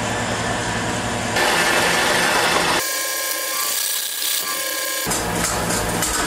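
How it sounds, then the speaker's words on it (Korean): An electric mixer whips egg whites at high speed for an Italian meringue for macarons, a steady loud motor whir with grinding texture that shifts in pitch and intensity across a few seconds, with no talking. "먼저 흰자를 고속으로 휘핑해 주세요."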